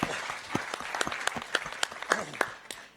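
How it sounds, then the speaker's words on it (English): Audience applause at the FIM awards gala in Berlin, a scattered crowd clapping with sharp individual claps standing out over a steady patter, moderately distant and sustained throughout. "Please give him a round of applause."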